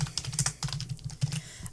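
Quick bursts of typing on a computer keyboard, close-up clicky keystrokes in an irregular rhythm, heard alone.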